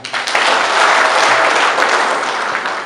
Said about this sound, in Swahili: Tumtie moyo kwa makofi mazito.